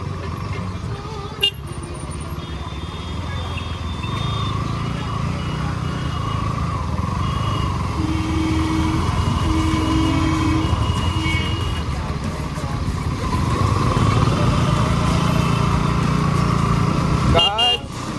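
A motorcycle engine drones steadily while riding, a constant close hum with wind noise that swells slightly in the second half and carries a brief short tone early on.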